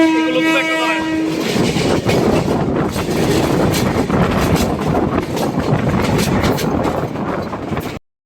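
A train horn sounds near the start, then loud rumbling and rhythmic clattering of intercity train cars rolling past close by at Shahidnagar Barikuto railway station, with wind buffeting, until an abrupt stop.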